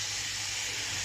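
Liver pieces fry on a small, crowded tawa griddle, giving off a steady, even sizzling hiss that holds without break for the whole moment.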